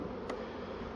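Honey bees in a hive hum with a steady, faint, close buzz for about a second.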